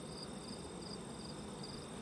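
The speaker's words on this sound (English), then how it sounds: "Look at those bees." Bees in a freshly opened nest, a steady close-up insect hum with a high whining drone running throughout, continuous and fairly quiet.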